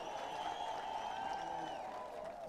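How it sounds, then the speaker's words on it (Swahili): Crowd applause for Speaker Weta at an outdoor political gathering in Kitui, a steady wash of clapping and cheering voices over a constant hum, with no speech. "Wapi makofi ya Spika Weta jameni?"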